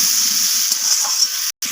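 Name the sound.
potatoes frying in oil with salt and turmeric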